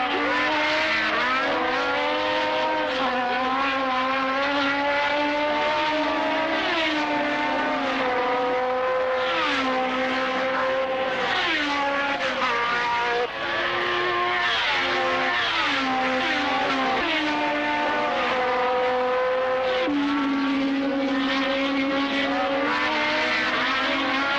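Race cars at the Italian Grand Prix at Monza roar continuously, engines rising and falling through gear changes as cars pass, loud and dense with no voices over them.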